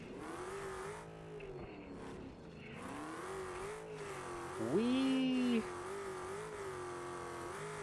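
Race car engine in the BeamNG driving game, a steady droning whine that rises and falls with the throttle, a brief louder surge near the middle, with a voice exclaiming over it.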